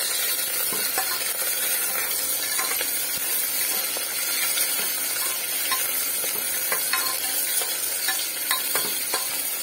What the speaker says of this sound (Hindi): किछिटा पियाज मु पकाउछि